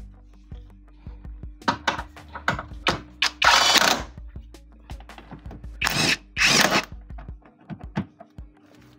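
A power drill tightens screws on the front seat of a Perodua Bezza car, firing in short bursts of whirring with a few longer runs and brief pauses between them, close and loud.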